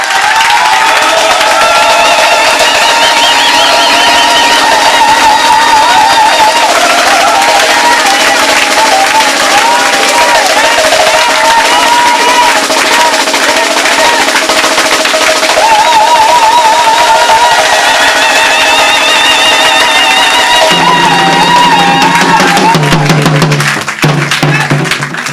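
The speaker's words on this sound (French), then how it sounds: "Est-ce qu'on peut applaudir très fort parce que cette conférence est une réussite?" A conference audience applauds and cheers loudly, a dense, sustained roar of clapping and shouting that fills the room for over twenty seconds, with music-like tones and voices mixed into the din.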